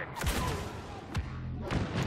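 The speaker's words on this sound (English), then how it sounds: "Explosions!" Explosions and gunfire in the multiplayer shooter Star Wars Battlefront, several sharp booming blasts spaced across a couple of seconds over a rumbling battlefield background, moderately loud.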